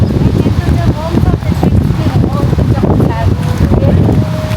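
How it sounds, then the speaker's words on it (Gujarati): A cool outdoor breeze buffets the microphone as steady, loud wind noise for the whole stretch, with voices audible underneath. "મસ્તીનો ઠંડો ઠંડો પવન આવે છે."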